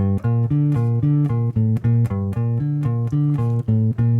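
Low bass guitar notes are plucked in a steady, repeating phrase that cycles several times without a break, loud and alone.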